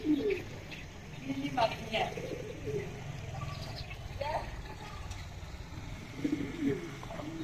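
Pigeons coo in soft, repeated low phrases at intervals, nearby, perched on and around a wall, over a background hum with some voices talking.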